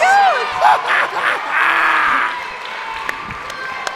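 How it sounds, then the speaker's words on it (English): Wrestling crowd at a championship match bursts into applause, cheers and whoops, loud and close, with the noise tapering off after a couple of seconds; a voice talks over it. "I've got to give him a round of applause"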